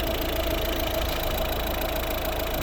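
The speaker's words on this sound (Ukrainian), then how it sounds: "Ось робота двигуна" A 2010 Volvo V50 R-Design with a D2 1.6 diesel engine idles steadily close by, a low continuous rumble with a faint knocking texture and no voices.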